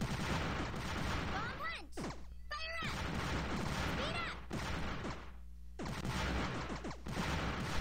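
Explosions from a Bomberman arena video game on a thin ice stage burst in dense, noisy blasts that fill most of the clip, broken by short gaps and chirpy game sound effects.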